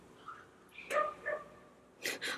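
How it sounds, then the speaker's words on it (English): Several dogs bark in short bursts at a moderate distance, a couple of yips early and a louder pair of barks at the end. "A lot of dogs barking right now."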